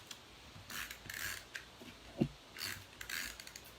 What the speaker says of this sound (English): then we can just tape this down